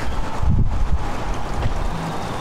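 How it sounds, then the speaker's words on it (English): Strong gusty wind buffets the microphone outdoors, a loud steady roar with heavier low rumbling bursts, continuous and alone without speech. "That's some crazy wind right there."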